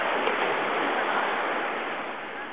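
Ocean waves at Eagle Beach, Aruba, a steady close wash of surf and broad roaring hiss that holds evenly and eases slightly toward the end, with no talk.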